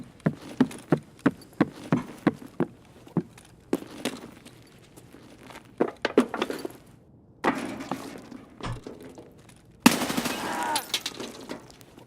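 M4A1 rifle shots in the Escape From Tarkov video game crack out singly and in short clusters at uneven intervals, loud and near, with rustling movement between shots and no talking.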